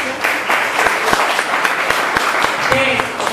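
An audience at an association event gives applause that holds steady at a strong, dense level throughout, with a voice faintly audible underneath.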